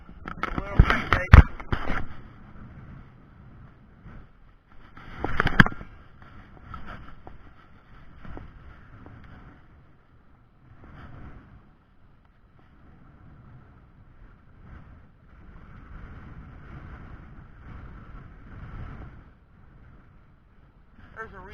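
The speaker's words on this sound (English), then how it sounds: "it's really windy out here" Gusty wind buffets the microphone outdoors at a fishing pond, giving low rumbling blasts and a steady rush. A few sharp knocks come near the start, and someone talks over it at times.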